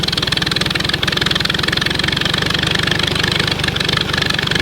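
An old Farmall Super A tractor engine idles steadily nearby, a loud, even low putter with a quick regular beat and slight unevenness, running alone without talk.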